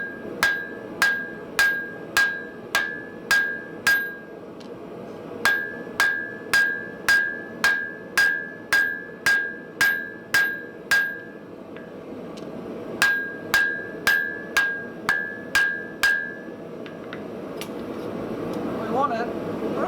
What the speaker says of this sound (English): the first bit we've got to do is forge down these face plates